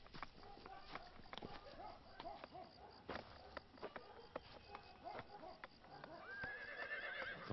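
A horse neighs and whinnies near a mounted rider in a fantasy film scene, with clip-clop hooves and shuffling movement underneath and a long rising whinny toward the end, while voices speak faintly in the mix.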